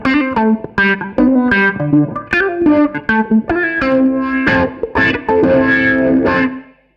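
Electric guitar run through a ring modulator pedal, with choppy metallic distorted notes in an uneven phrase that ends in a longer ringing chord and then cuts off.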